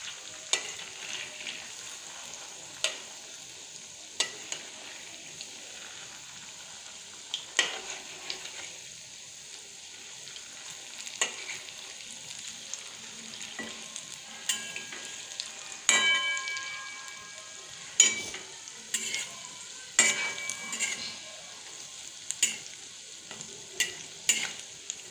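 Chhana bora, cottage-cheese fritters, frying in deep oil, with a steady close bubbling sizzle and occasional stirring clinks and scrapes throughout.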